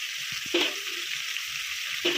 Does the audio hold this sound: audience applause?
no